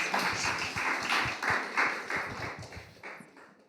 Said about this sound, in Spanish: Dale un fuerte aplauso al Señor por la vida del pastor Rafa.